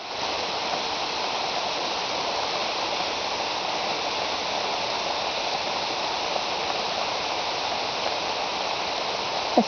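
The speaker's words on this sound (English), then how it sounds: "But I can really hear it raining out there." Steady rain falls outdoors nearby, an even hiss of drops with no breaks, heard from a hammock beside a road.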